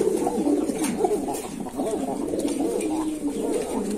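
Sirazi pigeons coo at a pigeon farm, a steady low throaty warbling that runs continuously, close and fairly loud, with overlapping calls from several birds and no speech.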